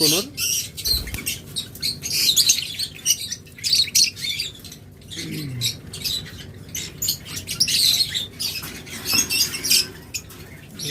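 Green-cheeked conure parrots in a bird shop, giving sharp, repeated squawks and chirps in irregular bursts close by, mixed with pattering and scuffling from the cages and other birds.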